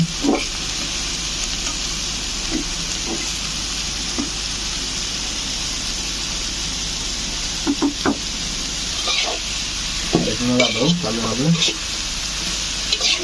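Brinjal and dried fish curry sizzles steadily in a pan over slow heat, with a constant frying hiss, scattered utensil scrapes and a burst of stirring near the end.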